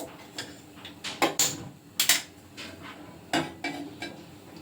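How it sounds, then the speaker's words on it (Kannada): A metal pan is handled on a stove while oil goes in for a tempering, giving several close, sharp clanks and knocks in an irregular run, with quiet pauses between them and no talk. "ಇದೇ ಬಾಣಲಿಗೆ ಎಣ್ಣೆ ಹಾಕಿ ಒಗ್ಗರಣೆಗೆ ಹಾಕೋತೀನಿ"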